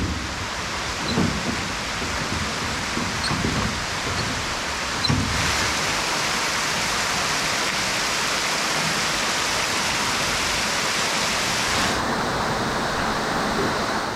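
Waterfalls pour through a layered lava-rock gorge in Miyazaki, Japan, making a continuous broad rushing roar that stays steady and enveloping from start to finish.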